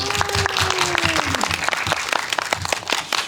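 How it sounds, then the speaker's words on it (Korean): An audience at a film talk event applauds steadily and loudly throughout, with dense clapping that tapers slightly toward the end and a voice briefly heard over it. "네, 다시 한번 큰 박수로."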